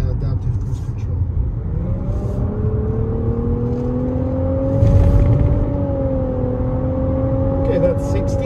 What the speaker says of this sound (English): We're going to test the acceleration, get it up to speed to the highway